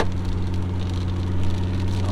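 Heavy rain pours in a steady, dense patter close by, alongside a low engine-like hum near a broken-down VW Beetle, with no talking.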